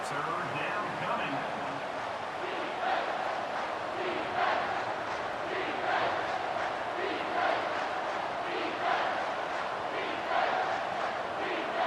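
A stadium crowd roars during a big third-down play in the College Football 25 video game, Fresno State Bulldogs at San Jose State Spartans, a sustained, swelling wall of cheering that carries on steadily for the whole stretch.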